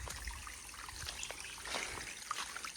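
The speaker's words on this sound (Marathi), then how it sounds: "या पायऱ्यावरून पण मस्त पाणी वाहते." Water trickling and running down old stone steps outdoors, a steady soft babble with small splashes throughout, fairly faint and continuous with no voices.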